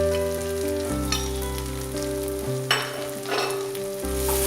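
Chilli and turmeric powder fry in hot oil in a pan for a Bengali-style doi chingri prawn curry, a close, continuous sizzle broken by a few stirring scrapes.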